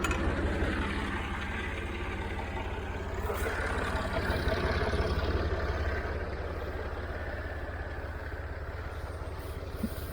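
A Massey Ferguson 50 diesel tractor idles in a hay field, a steady low throbbing engine rumble close and constant for the whole stretch, with no talk.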